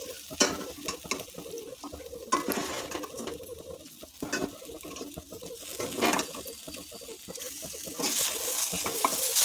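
Long brinjals frying in a pan as a spatula slowly turns them with ground roasted gram, a soft sizzle broken by irregular scraping and stirring strokes, close and moderately quiet.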